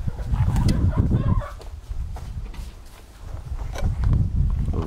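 Hens in a paddock, some of them molting, with soft clucking and scratching close by in bursts, interspersed with rustling footsteps on the ground.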